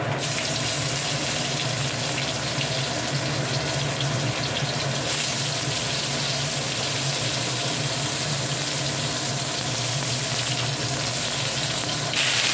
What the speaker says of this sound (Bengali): পটলগুলো একটু ভেজে নিই লাল করে